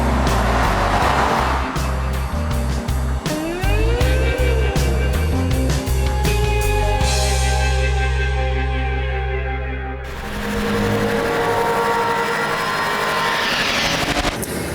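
A BMW 6 Series drives hard with a loud engine roar that climbs through the revs, breaking into gear changes. The car surges past with a sweeping drop in pitch, then the engine keeps droning at steady speed.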